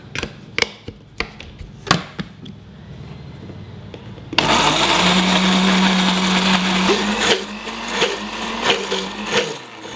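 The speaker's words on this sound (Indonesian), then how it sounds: "ini halusinnya pakai blender aja" Several sharp knocks and taps sound first, then a blender switches on abruptly and grinds fried spices with oil in a loud, continuous whirring roar that holds to the end.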